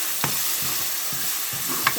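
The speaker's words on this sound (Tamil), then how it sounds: "எல்லாம் வதக்கி அரைச்சிட்டு வந்தது தானே, நல்லா வதங்கட்டும்" Ground masala paste for a fish and crab curry sizzles softly in a pan, with a few scraping stirs at a slow, uneven rhythm and no talking.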